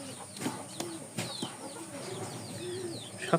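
Pigeons coo softly and repeatedly nearby, low throaty calls rising and falling amid a few light wing flaps in a quiet coop.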